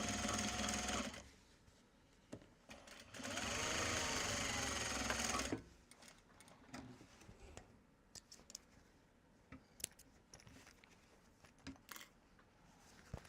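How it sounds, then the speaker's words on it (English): A sewing machine stitches a Japanese fabric bag in two bursts of steady mechanical whirring, followed by scattered clicks and handling noises. "So let's just sew this down this side"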